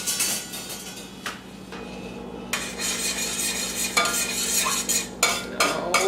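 Food being stirred in a pot on a home kitchen stove, giving repeated scraping and clinking strokes over a steady low sizzle, with sharp utensil knocks against the pan rim.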